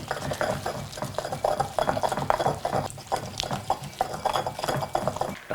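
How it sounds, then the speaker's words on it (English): Toasted almonds and pesto ingredients are pounded and ground in a mortar and pestle, a steady run of close scraping, knocking strokes and gritty rubbing throughout. "so I'm just going to be using mortar and pestle."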